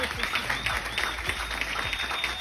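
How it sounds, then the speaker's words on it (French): An audience at an affiliate-marketing business presentation breaks into applause, with a steady wash of clapping and faint low thumps, moderately loud, and some voices murmuring underneath. "on applaudit pour l'argent"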